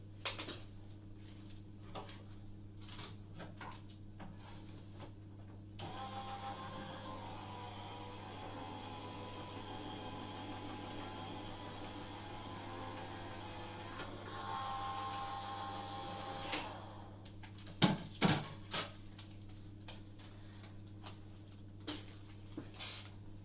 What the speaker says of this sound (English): just bear with me as I pop this through my die cutting machine